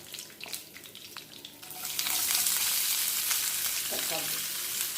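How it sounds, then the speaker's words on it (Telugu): Sliced large onion dropped into oil already crackling with curry leaves, a quieter fry that surges into a loud, dense sizzle partway through, with light stirring clinks. "ఇప్పుడు కొంచెం పెద్ద ఉల్లిపాయ వేసాము"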